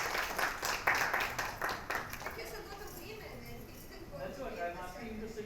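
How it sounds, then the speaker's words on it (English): Audience applause for panelists at a marketing conference in Dubai, a burst of clapping that fades within a few seconds as people start talking. "Please put your hands together in a massive round of applause for all of them."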